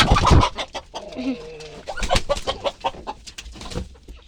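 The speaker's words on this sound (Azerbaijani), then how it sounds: "Yekə xoruzdur maşallah." A large rooster crows among clucking chickens in a busy farmyard, with scattered background noise throughout.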